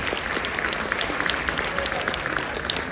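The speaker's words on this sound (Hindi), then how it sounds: "इन्हां लई जरा भरपूर तालियां हो जाण यार" Seated audience at a poetry gathering breaks into hearty applause, a dense continuous patter of many hands with a few sharper claps standing out, nearby and unaccompanied by talk.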